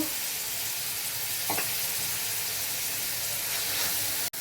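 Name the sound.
chicken frying in a pan with spices added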